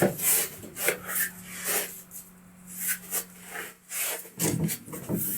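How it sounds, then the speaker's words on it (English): Footsteps on wooden floorboards in a house make a series of uneven creaks and scuffing knocks, some close and some softer, over a faint steady hum in a quiet room. "I just heard some footsteps"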